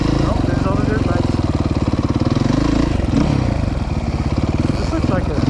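Dirt bike engines run at a motorcycle riding area, a steady buzzing drone with slight revving that continues throughout, with voices talking over it.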